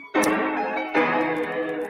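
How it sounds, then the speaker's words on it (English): A SolidGoldFX NU-33 Vinyl Engine pedal with its crackle effect applied to a sustained tonal synth or sample, heard as two loud harmonic notes, each entering with a sharp attack, with light crackle in the upper range. "this is a crackle."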